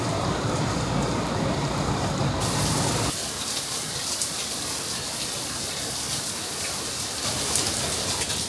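Heavy rain pours steadily in Singapore, a dense, loud hiss of downpour that continues without a break, its character shifting slightly partway through.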